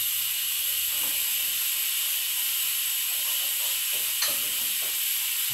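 Meat browning in a pot on the stove with garlic, cumin and a bacon stock cube, giving a steady, close sizzling hiss throughout with a few faint clicks and no talking.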